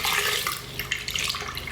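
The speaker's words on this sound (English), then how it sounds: "I'm going to add half a cup of water, so the soup will not be too thick." Half a cup of water is poured into a saucepan of blended, creamy carrot soup, giving a steady close splashing trickle with no talk.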